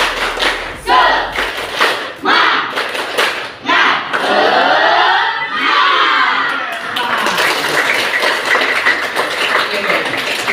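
A group of children and adults at a school session perform a tepuk semangat clapping chant, with loud rhythmic claps and shouted voices together, close and energetic, ending in cheering crowd noise.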